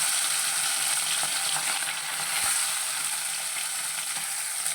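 Small mourala fish fry in mustard oil in a kadai, a dense, steady sizzle running throughout with faint stirring clicks and no voices.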